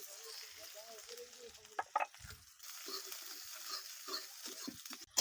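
Chopped onion and garlic sizzle in hot oil in a wok with black cumin and dried chilli, a quiet, steady hiss with a few sharper crackles and clinks of stirring. A rooster crows faintly in the village background.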